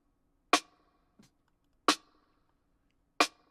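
Snare drum captured by a gated bottom snare mic: three sharp, crisp hits about 1.3 seconds apart, each cut off quickly into silence, with one faint small tick between the first two.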